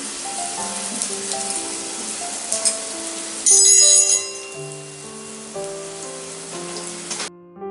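Garlic paste and asafoetida sizzle in hot oil with a steady crackling hiss, under background music, with a louder burst of frying partway through.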